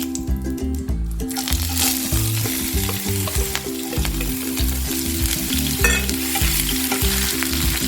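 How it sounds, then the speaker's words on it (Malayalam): Chopped green chili, ginger and garlic fry in hot oil for an egg chilli dish, a loud steady sizzle broken by repeated rhythmic scraping and stirring of a spoon against the pan, with no voices. "ഇനി നമുക്ക് ഇപ്പോൾ അരിഞ്ഞു വെച്ചിരിക്കുന്ന പച്ചമുളക്, ഇഞ്ചി, വെളുത്തുള്ളി ഇത് നമുക്കൊന്ന് എണ്ണയിലിട്ടൊന്ന് മൂപ്പിച്ചെടുക്കാം."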